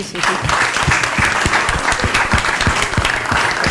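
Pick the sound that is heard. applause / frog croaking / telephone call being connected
applause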